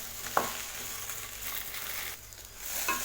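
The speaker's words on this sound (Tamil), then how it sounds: "நம்ம நல்லா எண்ணெயில் வதக்க தான் அந்த வலுவலுப்பு தன்மை போகும்" Okra (lady's finger) fries in oil, producing a soft, steady sizzle with a couple of spatula scrapes against the pan, fairly quiet and close, with no voices.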